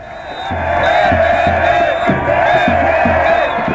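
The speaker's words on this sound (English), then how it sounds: "It's a roar of sound because everyone's so excited and they're singing songs of the revolution" A huge crowd in a Cairo square celebrating Mubarak's resignation roars and chants in rhythmic bursts, a dense loud wall of massed voices with repeated shouted beats.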